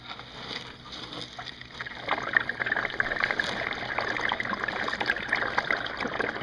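Water rushes and gurgles steadily as an aquaponics bell siphon kicks in and drains the grow bed, the trickling flow growing louder and fuller partway through and continuing close by.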